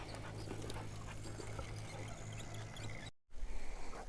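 A dog pants steadily nearby with quick, rhythmic breaths under a constant low engine hum from a vehicle, a brief dropout, then the panting resumes.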